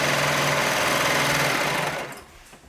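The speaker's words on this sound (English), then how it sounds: "I'm gonna be using my serger for this" A serger stitches stretch knit fabric in a fast, steady mechanical whir that runs loud and continuous before slowing and trailing off at the end.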